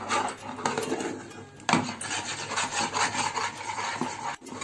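Mawa (thickened milk solids) stirred continuously in a pan while cooking a parwal sweet, giving a steady scraping, rubbing rasp of spoon against metal that runs throughout at close range, with no talking.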